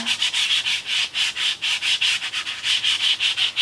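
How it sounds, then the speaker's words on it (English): An ink pad rubbed back and forth over an embossing folder makes a steady run of close, rhythmic scrubbing strokes, about four per second, with no voices. "Pretty much just rub it all over your embossing folder."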